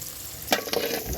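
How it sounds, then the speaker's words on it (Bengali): Chopped ginger, garlic and onion fry in hot oil, a brief close sizzle with a couple of scraping stirs against the pan; no talking. "আদা কুচি আর চার থেকে তিন কোয়া হচ্ছে রসুন কুচি এবং দুইটা পেঁয়াজ কুচি একসাথে দিয়ে দিলাম এখন হচ্ছে ভেজে এটাও তুলে রাখবো"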